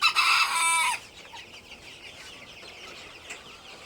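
Egyptian Fayoumi chickens and chicks cluck and call loudly at close range for about a second, followed by quieter, faint chick peeping and fowl sounds that persist in the background.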